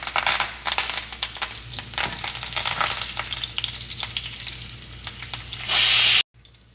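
Cumin, mustard seeds and garlic crackle and spit in hot oil for a tempering, dense popping sizzle up close that swells into a loud burst just before cutting off.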